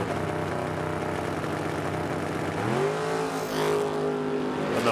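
A 1933 Ford Coupe and a fastback Mustang rev their engines at a drag strip, loud continuous engine roar that climbs sharply in pitch midway as they launch and pull away, with no talk.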